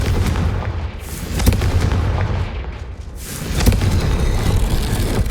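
Confringo fire spell blast in the Hogwarts Legacy video game, a series of loud booming explosive impacts over a dense rumbling backdrop with no talk.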